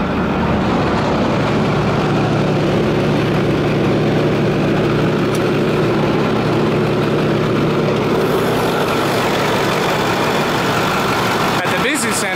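A 2010 Ford F250 Super Duty's 6.4-liter Powerstroke turbo diesel V8 idles with a steady low rumble and clatter, constant and close, a brief click near the end.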